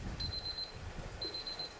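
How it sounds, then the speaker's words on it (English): A digital kitchen timer goes off during a homebrew beer brew day for a Citra English IPA, giving two bursts of rapid high-pitched beeping about a second apart over low background rumble. "And there's my timer going off."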